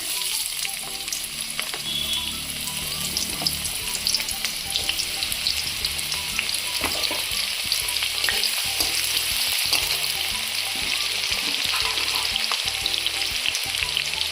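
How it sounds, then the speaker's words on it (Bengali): Chopped onion hitting hot oil in a pan, a loud dense continuous sizzle and crackle with occasional stirring scrapes, no voices. "তেলটা গরম হলো, পেঁয়াজ কুচি দিচ্ছি।"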